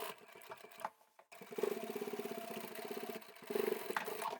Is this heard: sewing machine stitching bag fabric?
yes